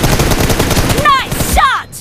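Rapid, loud gunshots in an aim practice video game, fired close in a quick repeating burst that fades out near the end, with game voice lines heard briefly.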